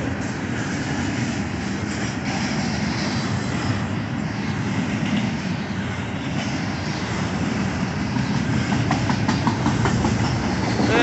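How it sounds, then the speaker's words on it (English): A Union Pacific southbound intermodal freight train carrying containers, led by UP 5989 and UP 6215 with UP 5833 as mid-train DPU, rolls past close by as a loud, steady rumble with rhythmic clickety-clack of wheels and no talking. "I love this intermodal train."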